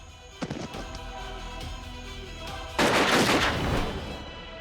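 A sharp gunshot crack rings out in a crime drama scene, followed moments later by a louder, longer blast with a rumbling tail, all over a steady musical background.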